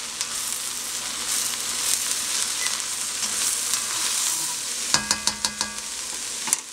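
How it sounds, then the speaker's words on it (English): Black beans are stirred into tender sauteed vegetables in a pan for vegan empanadas, making a close sizzle that breaks into a quick run of sharp spoon-on-pan clacks near the end. "we're going to go ahead and add in our black beans. Give it a quick mix."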